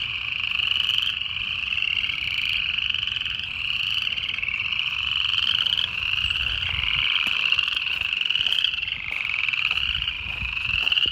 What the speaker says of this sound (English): these frogs are so loud